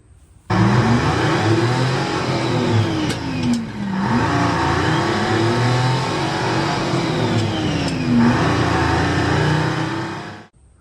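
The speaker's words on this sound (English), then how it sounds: "We're gonna go with the John Deere because it's got the 6-foot brush hog." A John Deere 2155 tractor pulling a 6-foot brush hog runs steadily close by, its engine droning loud and continuous with a couple of rising and falling swells in pitch, no voices.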